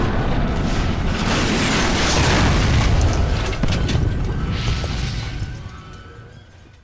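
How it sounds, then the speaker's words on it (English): Rockets launching and exploding in Fallout: New Vegas, heard as a loud, sustained rumbling roar of blasts and booms that stays heavy for several seconds, then fades away toward the end. "I'm now able to launch the rockets and view the show"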